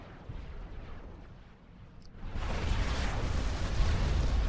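A power detonation explosion in the Supreme Commander 2 strategy game, a broad rumbling blast that swells up midway and holds as a loud, sustained roar to the end.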